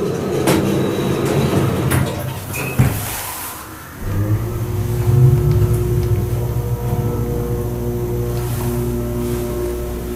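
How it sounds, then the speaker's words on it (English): An Otis dry-powered hydraulic elevator motor runs loudly and close by, a brief clunk and pause giving way to a steady, strong hum with tonal whine that holds to the end. "Listen to this motor."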